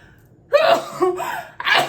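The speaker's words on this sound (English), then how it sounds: "I feel like I'm gonna sneeze." A sharp intake of breath followed by a burst like a sneeze, then another quick breathy burst, close and fairly loud.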